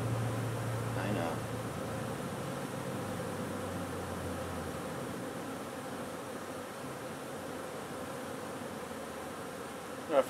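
Honeybees buzz around a hive while they feed the queen, a soft steady drone under a low hum, with faint speech-like sounds mixed in.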